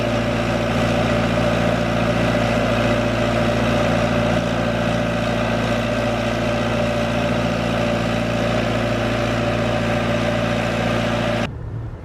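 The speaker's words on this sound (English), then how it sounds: "I just gotta check oil pressure and whatnot on the engine here." A steady engine idles loud and close beside a cranberry harvest bed, a constant low rumble with no speech that runs evenly for about eleven seconds and then cuts off abruptly.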